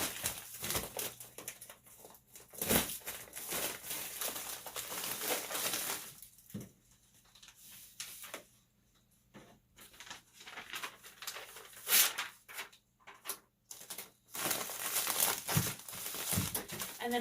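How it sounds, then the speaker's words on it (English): A package is stuffed into a padded flat rate mailer, producing bursts of crinkling and rustling plastic with short pauses between handling, close and fairly quiet, with no talking. "I'm just going to stick this in a padded flat rate envelope"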